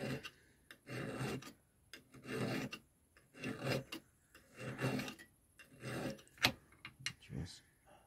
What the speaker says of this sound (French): c'est pour affûter les chaînes de tronçonneuse.